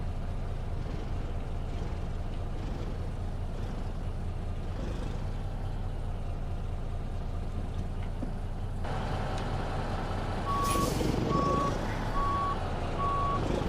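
A heavy truck in the American Truck Simulator game rumbles steadily at low idle while parking, then an air brake hiss and a series of evenly spaced reversing beeps sound near the end, loud over the engine drone.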